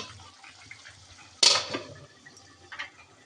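Broth splashes into a pan of meat that has been frying in a kitchen, a sudden loud pour that fades over about half a second, with a smaller splash after.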